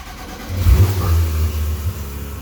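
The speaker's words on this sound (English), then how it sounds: "another cold start, but a little bit better" A 2006 Mitsubishi Lancer Evolution IX's 2-liter four-cylinder engine cold-starts, cranking and catching, revving up sharply then settling into a rough, steady idle close by.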